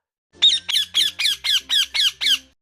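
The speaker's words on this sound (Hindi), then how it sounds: "लेकिन तोता जाग रहा था। उसने जोर जोर से चिल्लाना शुरू किया" Parrot squawking loudly in a narrated story: eight sharp, harsh squawks in a quick, even rhythm, close and alone against silence.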